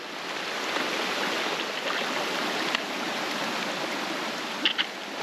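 Mountain stream rushing at a hiking water crossing, a steady broadband wash of flowing water, close and continuous throughout with no voices.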